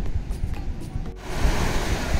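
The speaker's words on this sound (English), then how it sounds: "just the sound of the waves." Sea waves roll onto Cola Beach in South Goa, a steady surf wash with a breaker swelling louder midway, mixed with light wind buffeting the microphone and no talk.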